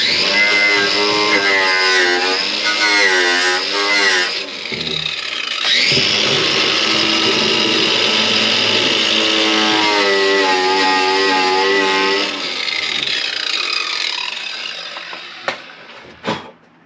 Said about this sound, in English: take my grinder here with a wire wheel and just clean that off a little bit